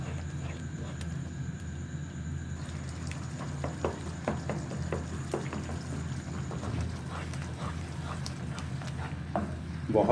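Pizza sauce with chili flakes simmering in a pan, a steady low bubbling sizzle with occasional spoon clicks and stirring scrapes, close and even throughout.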